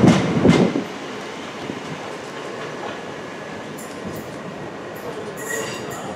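Southeastern Class 375 and Class 465 electric trains pull away from the depot near Dover Priory or Margate, a loud burst of wheel and motor noise at first easing into a steady rolling rumble with faint squeals.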